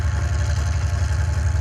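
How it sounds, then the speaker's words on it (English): A modified-class pulling tractor powered by two supercharged V12 Rolls-Royce Griffon engines at a Eurocup tractor pulling event in Brande, Denmark, idles with a deep, steady, heavy rumble that stays loud and close throughout. "This tractor is powered by two supercharged V12 Rolls-Royce Griffin engines"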